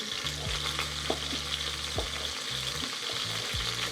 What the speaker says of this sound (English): our meat's been searing for about 10 minutes